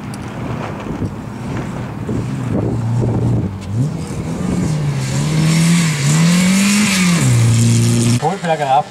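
A slalom race car at the Mühlviertler Slalomcup in Schenkenfelden revs hard, its engine pitch climbing, dipping and climbing again across several seconds, loud and close, with wind buffeting the microphone throughout.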